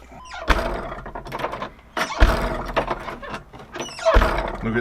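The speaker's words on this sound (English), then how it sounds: "So we'll see if the door hits it." A door swung into a 3D-printed door stop, giving three distinct solid thunks spaced a couple of seconds apart, with faint creaks and rustling in between.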